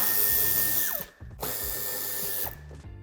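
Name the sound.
power tool removing Torx T25 screws from VW Golf Sportsvan bumper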